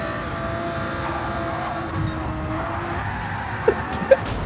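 A Mercedes race car in Gran Turismo 7 drives on a track with a steady engine drone, a couple of brief sharp tire chirps near the end, and no voices.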